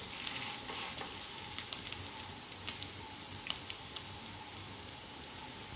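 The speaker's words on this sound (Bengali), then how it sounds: "বড়াগুলো আর হালকা আঁচে ভাজতে হবে" Fish roe fritters fry slowly in oil over low heat, giving a continuous fine crackling sizzle with scattered sharper pops, close and steady throughout.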